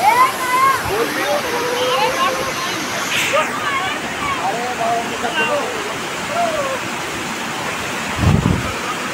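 The Tamhini Ghat waterfall roars in a constant, full-bodied rush, with voices singing and calling out faintly above the steady water noise.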